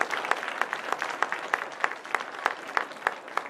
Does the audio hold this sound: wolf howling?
no